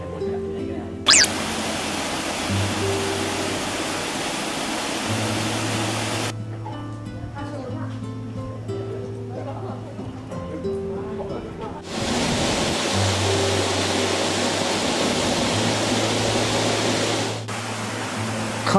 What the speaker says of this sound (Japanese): そしてその橋から滝がありますけど